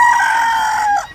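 A White Cornish chicken, an English meat breed, gives a loud, drawn-out call close by, one sustained tone that fades at the end.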